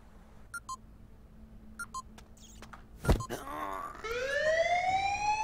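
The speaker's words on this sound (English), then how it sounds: "What set the alarm off?" A video game alarm siren in Dex starts up after a few faint beeps and a sharp impact. It wails in rising tones and grows steadily louder, holding to the end.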